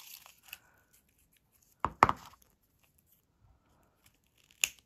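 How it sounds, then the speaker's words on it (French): Scissors snip through the thin wire stem of a small artificial craft flower, two close, crisp cuts in quick succession in a quiet room, followed a bit later by one more sharp click. "Je coupe la partie métallique."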